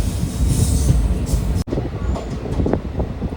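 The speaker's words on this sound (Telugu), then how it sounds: "ఈ ట్రైన్ వచ్చేసి మన పామిని ఎక్స్ప్రెస్ ట్రైన్ ఇది" The Pamini Express, a short passenger train of about ten coaches, rumbles past near Chandragiri with loud, continuous wheel roar and squealing, briefly cut and then resuming.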